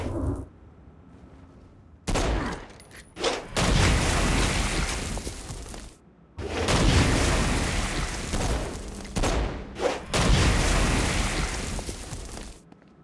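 Gunfire and heavy blasts from the Saints Row: Gat out of Hell video game, loud bursts of explosions and rapid shooting in long sustained barrages separated by brief pauses, with no voices.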